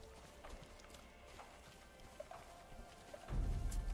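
Horse hooves in the video game Ghost of Tsushima, a faint patter of clip-clop steps under low game ambience that ends in a louder, heavier rumble.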